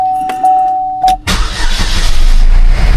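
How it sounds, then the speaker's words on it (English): A 2011 Buick Regal 2.0 Turbo starts nearby: a brief electrical whine and starter crank, then the engine catches into a steady, loud running rumble. "So let's throw a key in it, start her up, and see what happens."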